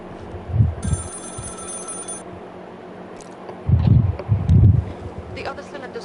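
A telephone rings in the horror video game Maid of Sker, a bright electronic ring lasting over a second, followed by low thuds and footsteps, with a voice speaking faintly at moments.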